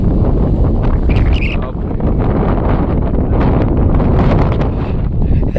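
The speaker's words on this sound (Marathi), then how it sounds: "वारा एवढा जोराचा आहे, ढकलून देतोय सरळ सरळ." Strong, cold wind at the top of a mountain ghat pass roars and buffets the microphone in a loud, continuous rumbling gust with no pauses.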